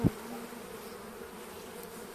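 Dense, steady buzzing of many Caucasian honey bees at a hive coming out of winter, a continuous hum close to the microphone with no voices.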